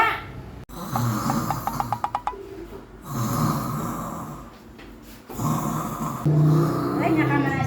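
A person snores loudly in a room, with rattling, rhythmic snorts repeating across several seconds while other people talk over and around the sound.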